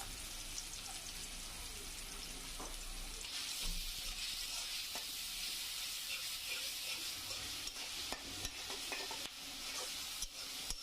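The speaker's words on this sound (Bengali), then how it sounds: "পেঁয়াজগুলো একটু ভালোভাবে ভেজে নিব।" Onions frying in hot oil for a hilsa fish curry with tomato, a steady close sizzle and crackle with occasional stirring scrapes, growing brighter and louder partway through.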